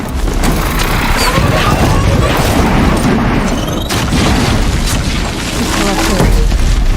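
A booming explosion in the video game Horizon Zero Dawn, a dense loud rumble of blasts and crashing debris that fills the whole stretch.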